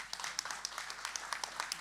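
A forum audience at a pitch session claps for a speaker, a brief, fairly quiet patter of applause from a modest crowd in a hall.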